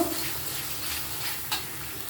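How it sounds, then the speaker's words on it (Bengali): Spice paste for an aloo bhindi vegetarian curry fries in a pan with a soft, steady hiss and a single brief clink of a spoon, heard alone at moderate volume. "মশলাটা আমি ভালো করে একটু কষিয়ে নেব"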